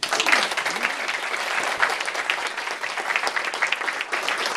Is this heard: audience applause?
yes